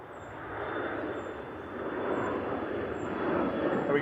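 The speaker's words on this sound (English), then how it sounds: "So we got the A321 Classic coming up next, just coming over the threshold for Jet 2." A Jet2 Airbus A321 airliner crosses the runway threshold on landing at Manchester Airport, a steady, moderately distant jet engine roar that slowly builds in loudness.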